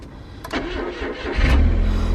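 A car parked by a narrowboat mooring on a mild, rainy day cranks briefly after sitting unused, then fires up and settles into a steady idle, loud and close.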